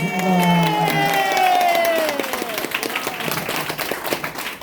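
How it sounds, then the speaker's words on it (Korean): An audience at a political candidate's press conference breaks into applause, a burst of clapping that swells and continues with some cheering, while a voice calls out over it at the start. "박수 한번 하겠습니다."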